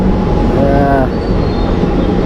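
A train rumbles loudly close by with a steady heavy drone and a brief squeal of wheels, a typical train pulling into a station on the Nilambur railway line near Vaniyambalam.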